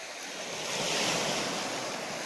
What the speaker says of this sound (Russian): Ветер так и не стих.